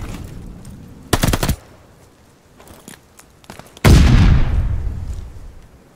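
Bursts of automatic gunfire at a contested hardpoint in a multiplayer shooter game: one short loud volley, a few faint scattered shots, then a long sustained burst rattling close by, with no talking.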